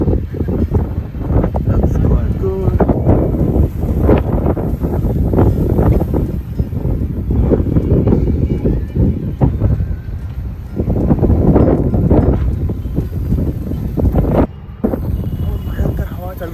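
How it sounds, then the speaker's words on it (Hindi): Strong, gusty wind blasts steadily across the microphone outdoors near an office tower, a loud continuous roar with rushing surges throughout. "भयंकर हवा चल रही है आजकल"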